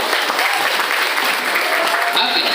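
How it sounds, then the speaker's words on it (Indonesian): An audience at an Islamic boarding school motivational event applauds loudly and steadily, a dense wash of clapping from many hands with no break. "Tepuk tangan buat kita semuanya."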